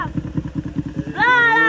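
A motorcycle engine putters in a fast, steady rhythmic chug close by, and then a voice speaks loudly over it toward the end.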